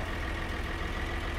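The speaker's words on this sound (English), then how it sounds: "I'm driving tractor, man." A tractor engine idles in Farming Simulator 2013, a steady low rumbling drone held without change, close and even, with no voices.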